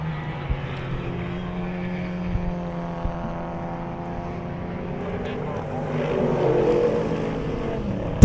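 Race cars in an endurance-series round thunder down a long 800-metre straight, a sustained engine drone with shifting pitch that swells louder near the end, followed by a sharp click.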